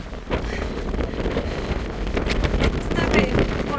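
Strong wind on Granite Island at Victor Harbor, Australia, buffets the microphone in a loud, continuous roar with gusty surges and no pause.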